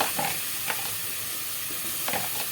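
Cubed chicken breast sautés in a pot with ghee, giving a soft, steady sizzle with occasional scraping stirs of a spoon against the pan.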